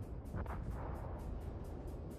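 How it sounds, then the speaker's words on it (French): Ship cannon batteries fire in the naval video game World of Warships, a heavy rumbling boom with a sharp burst near the start, over continuous loud low game noise. "On va aligner les batteries de canon"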